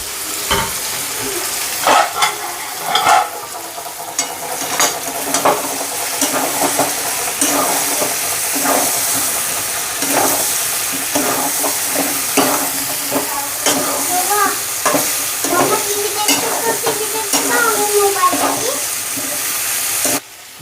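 Chicken, potatoes and whole garlic cloves frying in a pan, a loud continuous sizzle broken by repeated scraping stirs, with occasional voice in the background.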